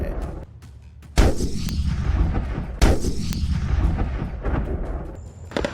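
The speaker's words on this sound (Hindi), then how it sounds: "तोपों की दिल दहलाने वाली आवाज से दुश्मन का कलेजा दहल रहा है।" Artillery guns fire at the Mahajan field firing range in Rajasthan, with two heavy booms about a second and a half apart, each rolling on and echoing loudly over a steady background rumble.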